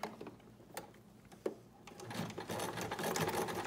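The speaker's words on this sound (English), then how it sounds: "we're going to fold the edge in and just sew along the old seam line" A sewing machine stitches along the old seam line of a folded fabric mask edge, starting with a few short taps and then settling into a steady, close, continuous whirring run.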